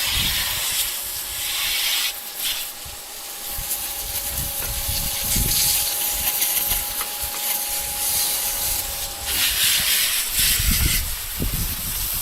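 A leaking sprayer on a cold-water fitting gives off a steady, loud broadband hiss that runs unbroken throughout, close by, with a faint tonal whine under it for most of the clip.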